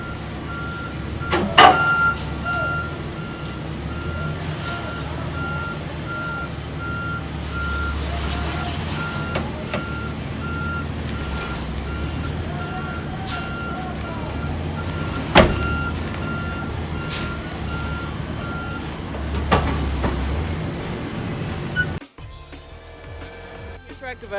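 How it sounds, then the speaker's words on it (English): Semi truck backing up with its trailer to slide the tandems, the reversing alarm beeping steadily over a low diesel idle, with occasional air-brake hisses and clunks before the engine note drops near the end. "I'm about to back up and set these tandems."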